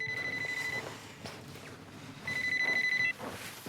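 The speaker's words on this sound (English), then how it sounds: "that's my phone" A telephone rings with two electronic bursts, the first about a second long and the second shortly after. The ringing is moderately loud in a quiet room, with faint shuffling movement between the rings.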